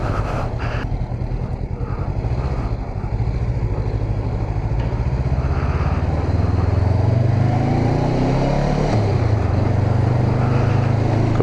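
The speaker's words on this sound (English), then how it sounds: "love the downshift popping on this bike" A 2019 Honda CBR500R ridden on a road, its engine droning loud and close with a rising rev, then a drop in pitch near the end as it downshifts.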